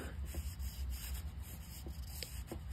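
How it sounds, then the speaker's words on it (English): A cloth wipes the bottom of a Perrine No. 81 automatic fly reel where the brake rides, a quiet, close rubbing with faint, irregular scrapes and taps. "let's wipe off the bottom of this where the brake rides"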